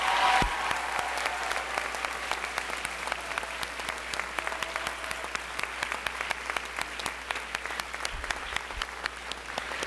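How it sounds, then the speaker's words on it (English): An audience at a high school spring orchestra concert applauds the graduating orchestra class of 2019; steady, continuous clapping with individual sharp claps standing out, moderately close and unbroken by talk. "Please give the class of 2019 a round of applause"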